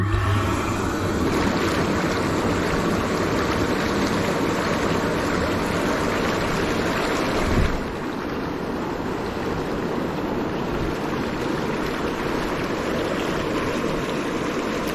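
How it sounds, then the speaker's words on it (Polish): Inflatable Lay-Z-Spa Hollywood jacuzzi with its bubble jets running, a dense, steady rushing and churning of air through water that continues without a break, close and fairly loud. "I włączamy sobie bąbelki."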